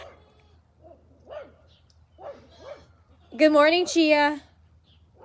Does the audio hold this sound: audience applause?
no